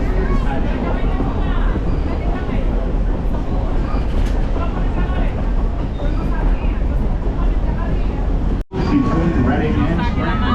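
Historic passenger train rolling along rails near a mountain trestle bridge, a steady loud rumble of wheels and carriage noise throughout, broken by one brief dropout near the end.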